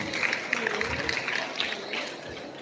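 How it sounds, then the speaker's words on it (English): Audience clapping for a woman about to give a recitation at a 90th birthday celebration for Professor Wole Soyinka, a brief burst of scattered applause in a reverberant hall. "Please clap for this beautiful lady."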